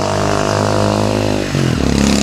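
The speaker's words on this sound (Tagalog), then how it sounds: "Ito bro, matindi tong motor na to." A Rusi motorcycle engine labors loudly up a steep mountain road, a steady close drone that dips briefly and then rises again as the revs change.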